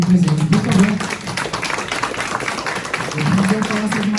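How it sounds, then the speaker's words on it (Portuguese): An audience applauds a family at a Brazilian talk event, with steady, moderately loud clapping running throughout while a voice speaks over it at the start and end. "Uma salva de palmas para a família que veio aqui presente."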